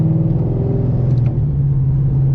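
A Ford Mustang GT fitted with a Paxton supercharger drives along with a loud, steady low engine drone and rumble from inside the car, a brief higher whine rising over it midway.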